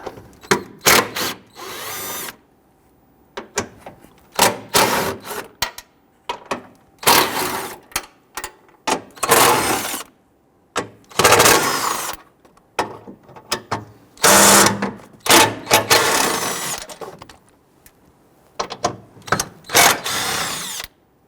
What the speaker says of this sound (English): Going to be a series of 10mm bolts around